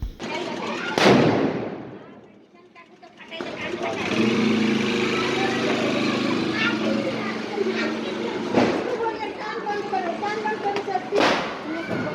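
Diwali firecracker bombs burst loudly, with sharp close blasts near the start, around the middle and near the end, over a busy background of continuous crackling and rumbling noise.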